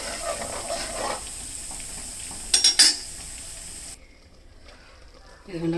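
Rice for pongal stirred in a pot, a spoon scraping and clinking against the metal in short bursts with a few sharper knocks midway, then fading to a quieter simmer before one more clatter at the end.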